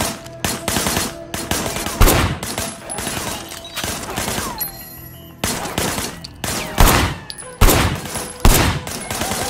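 Gunfire in the video game Sleeping Dogs: Definitive Edition, heard as loud, close, repeated bursts of automatic shots with brief pauses between volleys.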